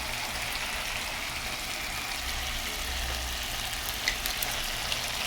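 Water poured into a pan of cooking shankar fish (stingray) sizzles as a steady, close broadband hiss, even and continuous with faint crackles near the end.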